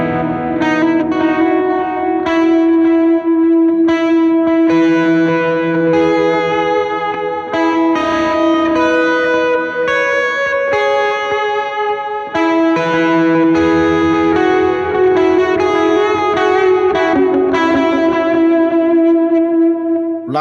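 Electric guitar played through an amp plugin with heavy reverb, a simple song of sustained, washed-out chords and notes ringing loud and continuous for the whole stretch, with long echoing tails and a slightly distorted edge.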